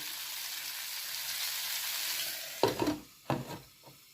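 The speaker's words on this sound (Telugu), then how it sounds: "ఉసిరికాయలు మగ్గుతున్నాయి" Amla (Indian gooseberries) simmer in a pan for pickle, a soft steady sizzle followed by a few sharp stirring scrapes and clatters near the end.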